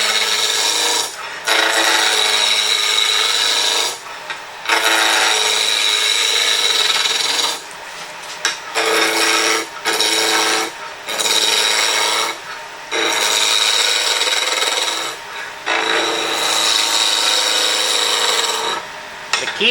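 Skew chisel cutting wood on a lathe during offset turning, a steady loud rasping hiss in repeated passes of one to three seconds, broken by short pauses as the tool lifts and moves across, with no voices.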